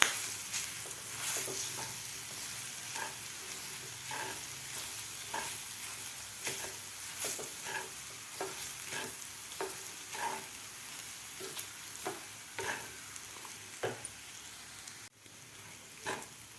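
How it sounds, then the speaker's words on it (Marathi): Thick lentil paste for vatli dal stir-fried in a pan over medium heat, a steady soft sizzle with regular scraping strokes of the spoon about once a second, close and alone. "आता डाळ आपल्याला व्यवस्थित परतून घ्यायची आहे"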